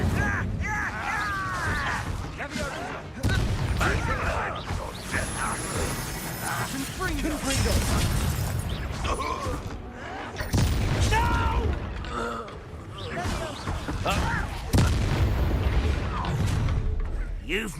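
The Confringo blasting spell from Hogwarts Legacy going off during a duel, with several booming bursts scattered through combat noise while voices talk over the action.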